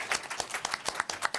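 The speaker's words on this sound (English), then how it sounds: "Let's give you a round of applause as well" Scattered hand claps patter in an uneven rhythm from a small group at a mayoral candidate forum, a short, light round of applause.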